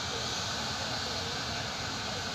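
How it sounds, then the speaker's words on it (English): A steady, roaring jet engine drones with broad hiss, continuous and unchanging, heard from a short distance with no clear voices over it. "I'm standing in front of a jet engine."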